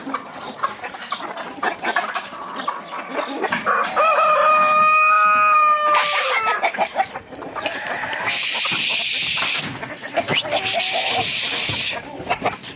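Chickens in a coop with around forty hens, clucking and rustling up close, with a loud rooster crow rising in the middle and more bursts of cackling and flapping toward the end.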